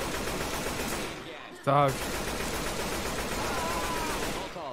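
Rapid gunfire in the zombie shooter Left 4 Dead 2, dense and continuous automatic bursts filling the whole stretch, with a brief shouted voice breaking through midway.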